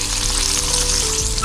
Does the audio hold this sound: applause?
no